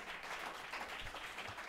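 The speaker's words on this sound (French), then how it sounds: "let's give a hand for David." A conference audience claps after a speaker's talk, a very faint, distant patter of applause running evenly throughout.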